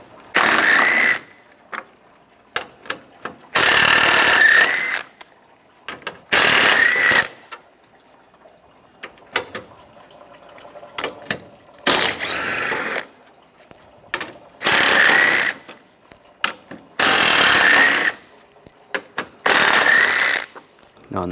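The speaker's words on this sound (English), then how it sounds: "Now we're going to take all these 10mm bolts out." A ratchet fitted with a 10 mm socket spins out bolts during radiator replacement on a 2010-2016 Cadillac SRX, giving repeated bursts of rapid close clicking, each lasting a second or two, separated by short quiet gaps.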